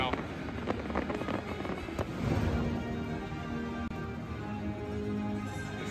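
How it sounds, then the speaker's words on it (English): Distant fireworks crackle and pop overhead at Magic Kingdom over a busy outdoor crowd murmur, with a few sharper bursts standing out from the steady background noise. "I am listening to fireworks pop overhead"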